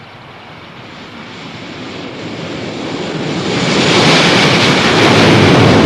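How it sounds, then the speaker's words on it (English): An aircraft approaches overhead, its broad roaring rush building steadily louder over several seconds until it fills the air, with no voices. "Bà con ơi, máy bay tới."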